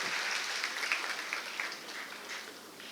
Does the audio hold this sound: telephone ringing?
no